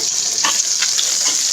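Onions sizzle steadily in a pot of oil while being cooked down for a restaurant-style badami paneer, with a constant hiss and a few soft stirring scrapes, close and fairly loud.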